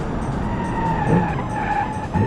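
Car braking hard in a BeamNG driving game, tires skidding and squealing in a loud continuous scrape lasting a couple of seconds, close up with engine noise underneath.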